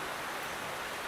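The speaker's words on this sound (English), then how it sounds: "It is raining." Rain falls steadily at the Nzulezu stilt village in Ghana, a dense, even hiss that fills the brief moment with no voices.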